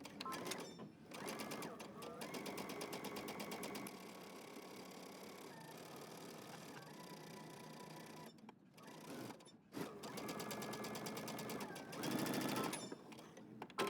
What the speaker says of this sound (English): we're going to stitch all the way around using a 5/8 of an inch seam allowance.